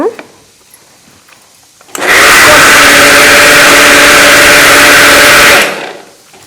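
Close and loud, a mixer grinder grinding corn with about half a glass of water roars steadily for nearly four seconds, starting suddenly and tapering off after a quiet lead-in.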